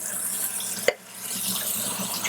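Tap water runs steadily as canned food is rinsed in a kitchen sink, a close hissing stream with a brief clunk partway through.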